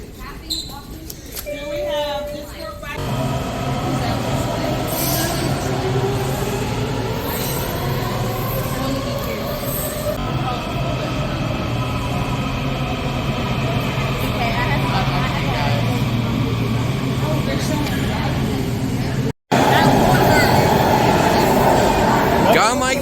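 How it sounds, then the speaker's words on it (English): A metro subway train rushes past at a station, a loud sustained rumble and rising whine lasting many seconds before cutting off abruptly, with people exclaiming and talking over it. "Everybody look, it's a train. It's a metro."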